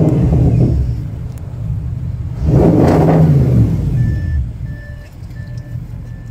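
A 2021 Rolls-Royce Ghost engine starts and revs with a deep rumble that swells and fades, followed by a series of regular electronic beeps.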